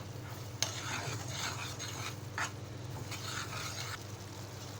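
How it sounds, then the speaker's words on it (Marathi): A tamarind and jaggery chutney with salt, coriander powder, red chilli powder and cumin powder is stirred in a pan, with a soft steady scraping and a faint simmering hiss throughout, close and fairly quiet. "आता मिश्रण एकजीव करून घेऊया"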